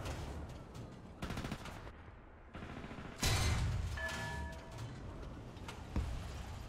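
Bursts of gunfire from a tank battle in War Thunder, Realistic mode with a Chi-Ha Short Gun, come as several sharp separate shots and short volleys over a steady rumble of battle, fairly loud and mid-distance.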